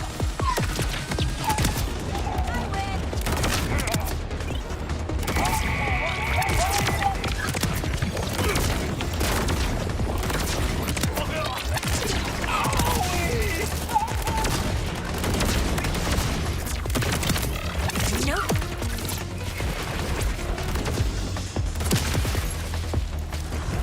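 Gunfire in Borderlands 4 on PC: rapid bursts and booming impacts repeat throughout, layered over busy game effects.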